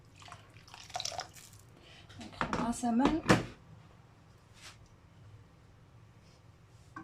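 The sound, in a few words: hot water poured into a tagine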